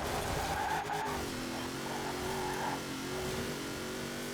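The Hot Wheels Bone Shaker hot rod drifts in Forza Horizon 4, its engine droning steadily at high revs while tires squeal and skid in a continuous loud wash, with no talking.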